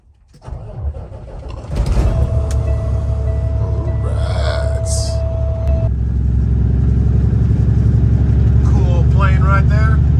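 A semi truck's diesel engine cranks and catches, then settles into a loud, steady low rumbling idle that builds slightly, with voices and brief mechanical clatter over it.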